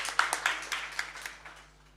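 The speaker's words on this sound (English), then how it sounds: "Everybody give an applause, you know, after each of them talks." Brief scattered applause from a small startup event audience, a handful of claps quickly thinning and fading within two seconds.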